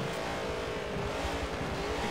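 BMW Z4 GTE race cars roar along the straight at Sebring, a loud sustained engine drone with tire noise, close and continuous without voices.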